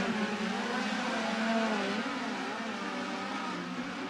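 USAC midget race cars at Merced Speedway snarl around the dirt oval in a close three-car fight, with several engines overlapping in a steady high-pitched whine that holds at a moderate distance throughout.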